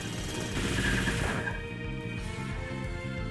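A burst of noisy, crackling attack effects from the Pokémon X game plays against dense background game music, loud at first and then fading under the continuing tune.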